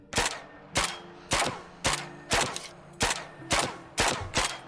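Pistol firing in the Zed Zone video game: nine sharp, loud shots at a steady, even pace of about two per second, each with a brief ringing tail, no voices.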